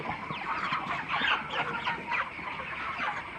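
PPF broiler chickens cluck in a crowded poultry shed, a busy overlapping chorus of short clucks and calls from many birds at once, steady and fairly near.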